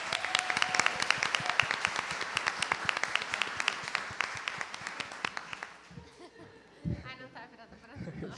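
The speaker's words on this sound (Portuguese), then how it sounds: "Vamos fazer uma salva de palmas para o pessoal lá da Bahia" A university audience at an inaugural Public Relations lecture claps in a brisk, dense burst for about six seconds before it tapers off into scattered laughter and murmured chatter.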